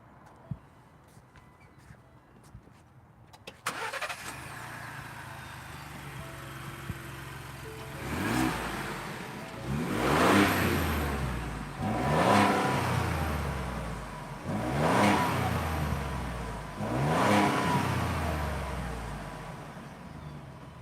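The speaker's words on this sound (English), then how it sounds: "I'm gonna start it up for you guys too." A 2021 Ford Bronco First Edition engine cranks and catches, settles into an idle, then revs four times in rising and falling swells, fairly close and loud.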